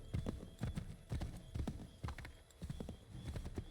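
Horse hooves clip-clop in a rapid galloping rhythm in the video game Assassin's Creed 3, loud and close, with repeated strikes and a brief whinny-like texture running steadily throughout.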